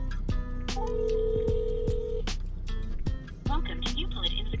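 A phone call placed to a car parts supplier, with keypad dialing tones, a steady ringback tone and a short recorded beep, all under someone talking throughout.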